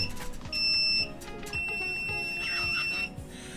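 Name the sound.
challenge timer buzzer starting the eating contest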